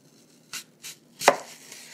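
A knife chops through a tart, crisp Granny Smith apple on a cutting board, three distinct cuts spaced about a third of a second apart, the last the loudest and sharpest, close and clear with no talk.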